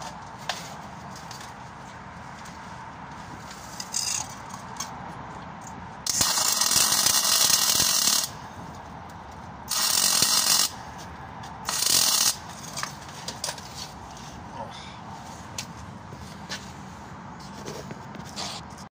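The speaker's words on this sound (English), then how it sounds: "I'm just going to tack that in there now. Just get that tacked in place." Arc welder tacking a trailer landing leg into place on a trailer frame, three short crackling bursts of a couple of seconds each, fairly close, over a quiet workshop background with occasional clicks and shuffling.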